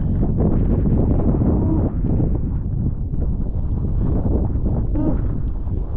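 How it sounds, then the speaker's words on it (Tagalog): Strong wind buffets the microphone in a steady, loud roar with low rumbling gusts throughout, no other clear sounds standing out. "Oh, lakas ang hangin."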